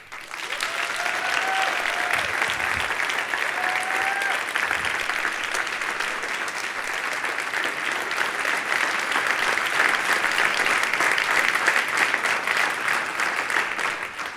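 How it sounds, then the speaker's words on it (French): Loud, sustained applause from a large audience at an engagement festival as an association comes on stage, dense clapping that swells and holds steady for the whole stretch without talk. "Est-ce que vous pouvez montrer comment on applaudit une association qui arrive sur scène ?"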